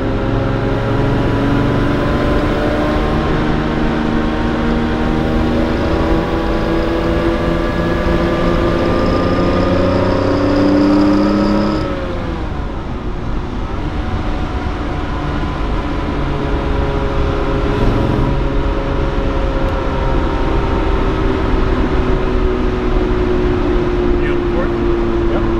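A 1968 Austin Healey 3000 MkIII sports car drones steadily on the road, its engine note rising and falling through gear changes, with people talking over it throughout.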